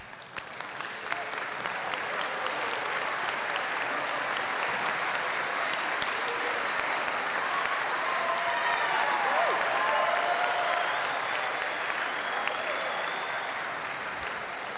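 A convocation audience applauds Dean's List students at Union College, sustained dense clapping that swells and holds evenly for the whole stretch before easing slightly, filling a large hall with no talking.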